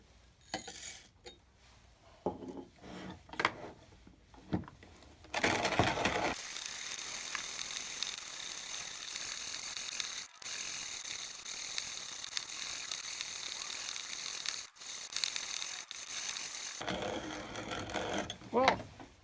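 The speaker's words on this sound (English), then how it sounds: "this is a very slow grinder and probably has the distinction of being the slowest coffee grinder I have certainly ever used" A 1950s-60s East German VEB coffee grinder works through coffee beans in a steady, sustained grinding rasp lasting about eleven seconds, preceded by scattered mechanical clicks and handling knocks, then followed by more clatter as it stops.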